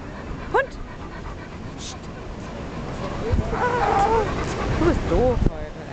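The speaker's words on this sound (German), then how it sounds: "Hey, Hund." A dog pants close by and lets out several high, wavering whimpers and yips, mostly toward the end, while a person speaks briefly nearby.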